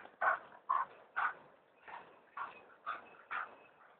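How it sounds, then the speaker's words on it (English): Dogs play together, making about seven short, evenly spaced huffing or scuffling bursts. They are fairly faint and close, with no voices. "Crazy dogs."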